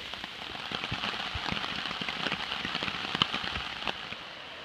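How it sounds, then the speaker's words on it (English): Rain patters steadily on a hammock tarp at a campground in Savage Gulf in October, with dense close drops and occasional louder splats, continuous and without voices. "listen to the beautiful sound of rain on the tarp"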